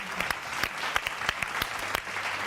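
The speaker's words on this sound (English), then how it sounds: "a round of applause for him" Dense, steady applause from a large football stadium crowd at a Barça versus Osasuna match, cheering Medina, with sharp individual claps popping out above a continuous roar throughout.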